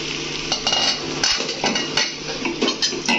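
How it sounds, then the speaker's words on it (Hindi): A spoon scrapes and clinks against a pan as cooked masala for a vegetable curry is stirred, with repeated metallic knocks over a soft background sizzle and no voices. "देखिए हमारा मसाला पक गया है, अब उसी को अच्छी तरह मिक्स कर लेंगे"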